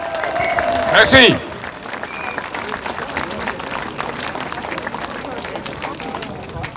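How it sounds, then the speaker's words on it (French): A crowd at a Paris peace rally applauds steadily for the speaker Jacques Chaminade, with dense, continuous clapping throughout and a voice briefly speaking over it near the start. "je vous prie de faire un tonnerre d'applaudissements à Monsieur Jacques Chaminade"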